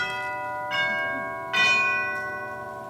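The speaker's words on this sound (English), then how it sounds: "No, I think it's the doorbell." A doorbell chimes indoors: two ringing bell tones, the second louder, each leaving a clear, slowly fading ring in quiet surroundings.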